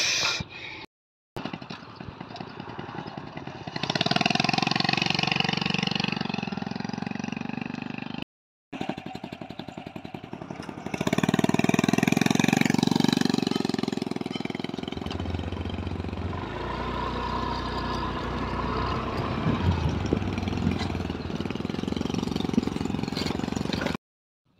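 A motorcycle engine runs while hauling rice seedlings to a field for transplanting, a steady mid-pitched chugging close to the microphone, briefly cut off twice and settling into a deeper rumble toward the end.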